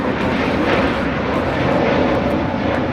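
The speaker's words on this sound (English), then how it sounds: "2542 taking off to Atlanta on the A320neo." Close, loud and unbroken engine roar from a Spirit Airlines Airbus A320neo taking off at LAX, a dense steady rush with no voices over it.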